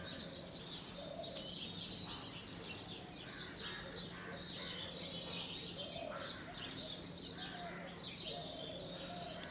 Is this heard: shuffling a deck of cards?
no